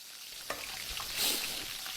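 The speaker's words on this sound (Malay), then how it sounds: "apa yang kau goreng tu? Telur ikan." Fish roe frying in a pan in an animated kitchen scene, a steady soft sizzle throughout with a small clatter near the start and a brief louder hiss of spattering midway, no voices.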